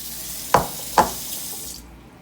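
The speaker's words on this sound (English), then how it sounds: "just rinse it off with cold water under the sink" Cold tap water runs in a kitchen sink over raw chicken wings, a steady hiss with two sharp splashy knocks close by before the flow fades out.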